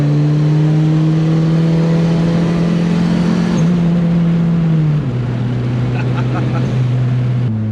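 Turbocharged Mitsubishi Mirage EVO car engine, loud and close, holding a steady high rev before the pitch steps down twice as it eases off, with faint voices in the background.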